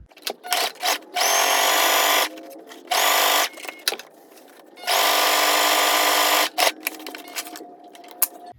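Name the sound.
sewing machine stitching fabric for a bow hair clip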